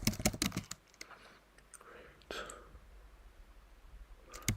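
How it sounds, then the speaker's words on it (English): Quick bursts of typing clatter on a computer keyboard, a cluster of sharp keystrokes at the start, then sparse scattered clicks and a final tap, all fairly quiet. "turn your volume down if there's too loud typing."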